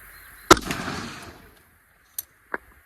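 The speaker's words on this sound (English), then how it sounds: "Firing in 3, 2," A single sharp gunshot at a steel target rings out close and loud, its echo fading over a second, followed by two faint ticks.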